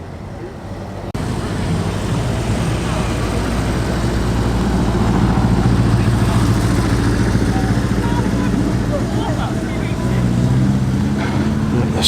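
A vintage Ford Model A with a 3.3 litre engine pulls away at an evening classic car meeting, its low steady engine rumble loud and close, starting abruptly and holding for about eleven seconds.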